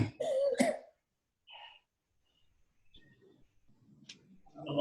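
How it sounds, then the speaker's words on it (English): A couple of sharp coughs up close, followed by quiet rustling and faint background noise. "That's the cough, right?"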